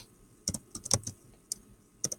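Keys clack on a computer keyboard during a third-grade writing lesson, in short irregular bursts of a few taps with brief pauses between, close and moderately loud, no talking.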